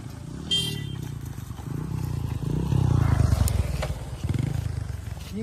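Motorcycles pass along a busy road, a continuous low engine drone that swells and fades as bikes go by, with rattling traffic noise around it.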